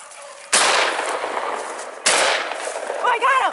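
Two loud shotgun-like blasts about a second and a half apart during a swamp rabbit hunt with beagles in wooded wetland, each with a long echoing decay, followed by a voice briefly speaking.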